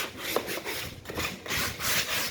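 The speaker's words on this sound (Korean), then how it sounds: "먼저 이렇게 사포를 조금" Sandpaper is rubbed back and forth over a wooden storage box in several firm, close scratchy strokes with brief pauses between them, and nobody speaks.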